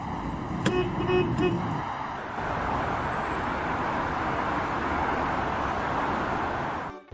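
A car runs with a continuous engine and road rumble, opening with a short horn toot and ending abruptly, with faint voices in the mix.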